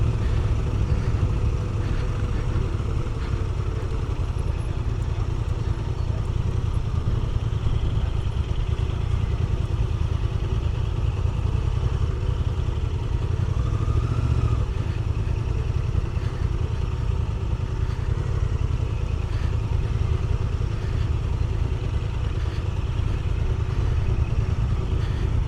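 A Honda Transalp 750 motorcycle rides an adventure training course, its engine a steady, continuous mid-pitched drone with clattering and wind rush throughout, no talk.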